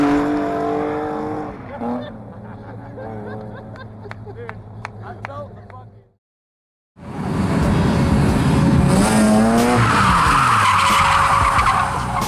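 Mazda RX-8 with coilovers and a welded diff drifting at an event, tyres screeching in long loud skids with engine noise and crowd voices, broken by a moment of silence partway through.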